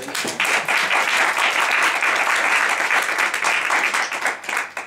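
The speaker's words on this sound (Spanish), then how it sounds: "creo que un aplauso para, para Samuel" An audience applauds Samuel Bentolila after his talk, a dense, steady wash of clapping from many hands that stays loud throughout and thins slightly at the end.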